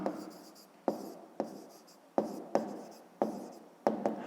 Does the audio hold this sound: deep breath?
no